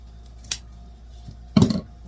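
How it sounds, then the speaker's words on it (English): Scissors snip through ribbon for a fall wreath swag, two crisp close cuts about a second apart, the second one louder and fuller, with a quiet room in between. "Now I'm going to take and cut this"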